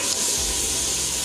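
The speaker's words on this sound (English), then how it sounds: "we're gonna cook the onions until they are translucent" Onions cook in a pan with a steady, close sizzle, a bright even hiss and a light scrape near the start.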